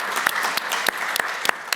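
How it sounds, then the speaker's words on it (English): Scattered audience applause at a conference session on emerging trends and innovations, a handful of distinct claps standing out over a softer, steady patter of hands, fairly close and brief. "a round of applause for Prashant"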